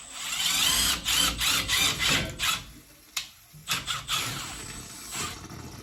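Water gushes and rasps out of a hose draining a Navien water heater installation in an uneven, sputtering rush, surging and dropping off with brief pauses.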